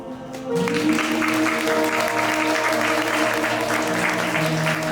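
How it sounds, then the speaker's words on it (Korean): Guests at a wedding ceremony in a convention wedding hall in Yeongdeungpo applaud warmly, steady sustained clapping that starts after a brief pause and carries on evenly, with soft background music underneath. "하객 여러분께서도 오늘 하나 되는 양가를 축하하며 따뜻한 박수를 보내주시기 바라겠습니다"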